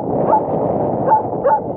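A dog gives short yips and high whimpers, a few brief cries close by over steady background noise.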